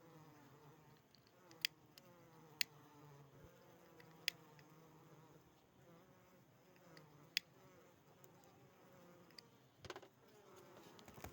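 Honeybees hum at a hive in a soft, continuous buzz at close range, with a few sharp clicks and taps breaking through the drone.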